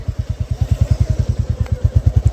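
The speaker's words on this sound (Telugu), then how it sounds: "బైక్ వచ్చేసి రాయల్ ఎన్ఫీల్డ్ హిమాలయన్" Royal Enfield Himalayan motorcycle idling close by, a loud, steady thumping single-cylinder beat with evenly spaced pulses throughout, alone with no talk over it.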